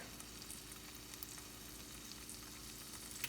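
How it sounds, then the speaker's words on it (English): Bacon rendering in a pan, a faint steady crackling sizzle with scattered small pops, continuous and fairly quiet with no voices. "as you can tell, the bacon is starting to render"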